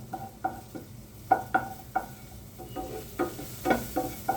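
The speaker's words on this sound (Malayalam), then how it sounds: "ഇതിപ്പോൾ ഞാൻ കടു വറുത്ത് കഴിഞ്ഞാണ് ജീരകം ഇട്ടത്" Mustard seeds and cumin frying in a pan, with regular clinking stir strokes against the metal over a low sizzle, close by with no voices.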